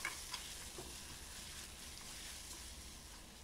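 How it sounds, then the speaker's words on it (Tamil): Ginger garlic paste sautés in oil in a pan, giving a faint, even hiss of sizzling with a couple of light clicks near the start. "அந்த எண்ணெயிலே நல்லா வதக்கிக்கோங்க"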